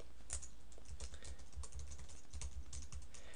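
Steady typing on a computer keyboard, rapid clicking keystrokes in an even patter throughout, close and fairly quiet with no voices.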